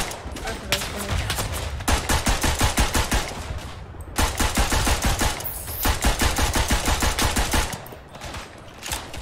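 Automatic weapons in the WWI shooter Verdun rattle in long, loud rapid-fire bursts, close by, pausing briefly near four and eight seconds before resuming, with faint talk underneath.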